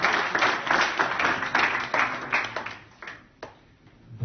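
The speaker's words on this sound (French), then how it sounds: "on peut l'applaudir aussi" A conference audience at a summit on human rights and big data claps for a speaker. The dense applause is strong at first, then thins into scattered claps and fades out.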